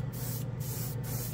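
Kustom Service metal color paint hisses steadily from a spray can, a loud, close, continuous spray with faint rhythmic pulsing and no talk.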